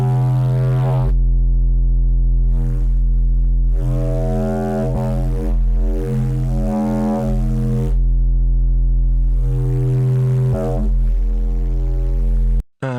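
A heavily distorted Serum 2 synth bass with stacked overdrive plays sustained, buzzing notes in phrases with short gaps, loud and gritty with harmonic overdrive, alone without voices.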